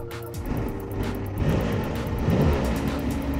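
Porsche 962 Le Mans race car engine starting on a key and settling into a low, steady idle, loud and close with a slight swell in rumble, no talk.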